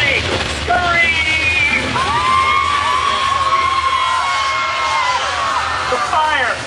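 A theme park show audience at Universal Studios Orlando screams and yells together on cue, a loud sustained crowd roar with overlapping high shrieks filling the whole stretch.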